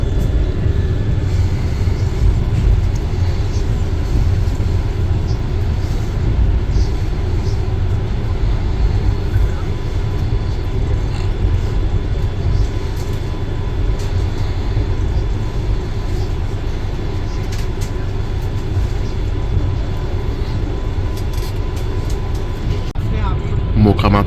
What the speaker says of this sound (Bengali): মোকামা থেকে ট্রেন ছাড়লো